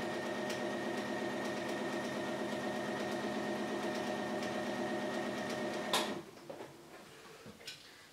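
A sewing machine stitches a kids' tote bag pencil case, a steady rapid mechanical whirring and ticking for about six seconds that stops abruptly, followed by a few small handling clicks.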